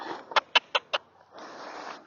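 A horse handler makes a quick series of four sharp tongue clucks, close and crisp, to cue a horse during groundwork with a whip, followed by a soft rustling pause.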